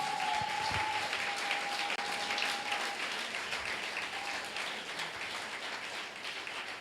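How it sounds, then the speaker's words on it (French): Church congregation applauding in praise of the Lord, a dense, sustained wash of many hands clapping that fills the room steadily from start to finish, with a brief tone and faint voices underneath. "On peut acclamer le Seigneur pour cela."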